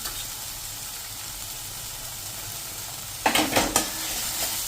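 Steady hiss of spices, including coriander-cumin powder and turmeric, frying in a hot pan, then three quick scraping strokes as they are stirred near the end.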